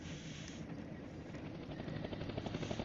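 NATO helicopters in the wargame Flashpoint Campaigns: Red Storm, a fairly faint, steady rotor thrum with rhythmic chopping that swells slightly toward the end.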